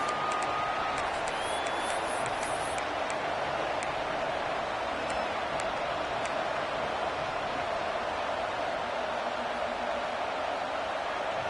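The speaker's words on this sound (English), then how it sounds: "this home crowd is fired up and ready to make a difference today" Steady roar of a home stadium crowd in the College Football 26 video game, a dense, even wash of cheering and noise that holds at the same level throughout with no clear breaks.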